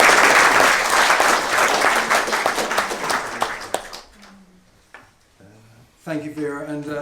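Loud applause from a conference audience fills the first four seconds, then fades out, followed by faint scattered sounds and a voice speaking near the end.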